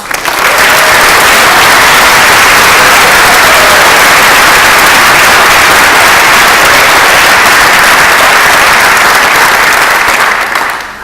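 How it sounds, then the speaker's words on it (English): Loud, dense audience applause fills a hall at a scholars day honor convocation, a steady wall of clapping that holds at full strength for about eleven seconds with no talk over it. "Let's give them a round of applause."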